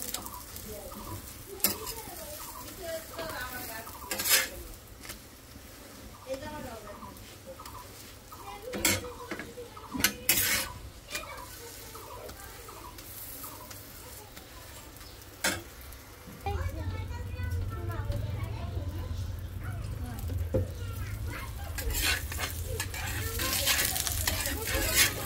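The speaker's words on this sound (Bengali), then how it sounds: "সেই জন্য একটু সাদা তেল দিয়ে ভাজতেছি, আর ভালোও লাগে না সরষের তেলের পরোটা।" Paratha frying in white oil in a pan, a low sizzle with intermittent clattering and scraping of utensils, growing louder and steadier toward the end, with some faint talk.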